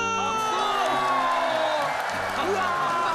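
Children's crowd in a kids' TV show studio cheering and clapping, a steady dense wash of shouts and whoops lasting throughout, with adult voices and music-like tones over it.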